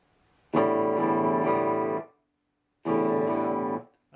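Two sustained overdriven electric guitar chords or strums ring out loud and alone, each lasting about a second and a half, with a short silence between them.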